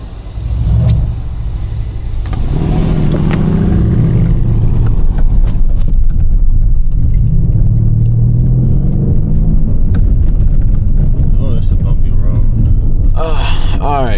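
Mercedes CLS V8 engines rumble and rev, a deep steady growl rising in bursts, heard close with people talking over it.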